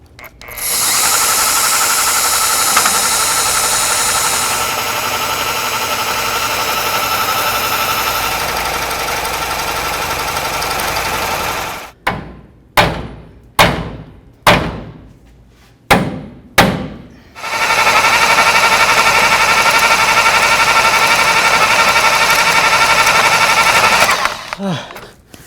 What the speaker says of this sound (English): I'm going to go ahead and cut that bolt right out of there.